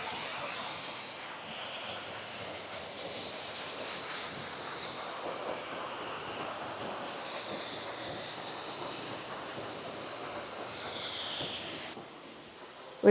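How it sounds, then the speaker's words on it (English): Steady rushing water from the waterfall at Disney's Wilderness Lodge resort, a continuous broadband roar without a break for most of the span, heard alone with no talk, cutting off near the end. "And then this waterfall coming up here, it's just absolutely amazing."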